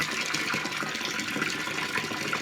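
Water pours steadily into a container at an off-grid site, a continuous gushing rush at moderate level with no voices.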